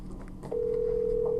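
A telephone ringback tone on an outgoing call: after a brief muffled stretch of room noise, a single steady electronic tone starts and holds unbroken to the end, moderately loud over a low background hum.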